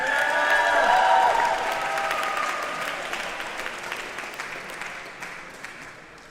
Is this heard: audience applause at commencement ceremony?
yes